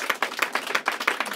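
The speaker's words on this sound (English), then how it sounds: "Give him a round of applause." Brisk rhythmic clapping for a birthday, a quick run of close, sharp claps at a steady beat with no talking.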